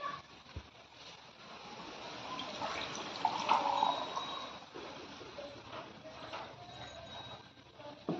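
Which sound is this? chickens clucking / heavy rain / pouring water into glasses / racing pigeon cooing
pouring water into glasses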